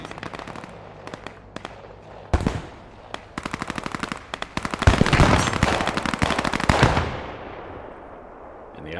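Bursts of automatic gunfire and single shots in the World War II video game Squad 44, loud rapid rattling volleys that build into dense sustained firing, then fade out.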